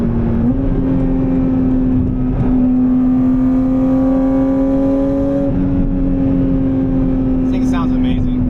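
A Porsche GT4 RS with a full titanium Valvetronic exhaust holds a loud, close, steady high-rev drone, the pitch stepping up and settling as the throttle shifts, while someone talks over it.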